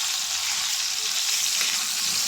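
Hilsa fish frying lightly in a pan after being flipped, a steady, close, even sizzle of hot oil running throughout with no voices.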